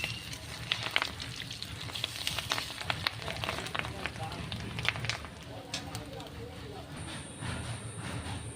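Fish roe fritters coated in gram flour fry in hot oil with a steady, dense sizzle and scattered crackles and pops that continue close by throughout.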